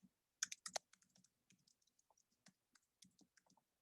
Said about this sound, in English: I'll type my email in the chat.